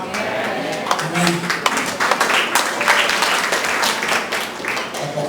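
Congregation clapping in a church, a dense burst of many hands applauding steadily and fairly close, with voices mixed in underneath.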